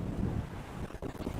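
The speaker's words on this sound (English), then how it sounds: "West-southwest, 25 miles per hour with gusts of 40" Strong gusty wind buffets an outdoor microphone at a high school baseball game, a steady low rumble with surging gusts throughout, no voices.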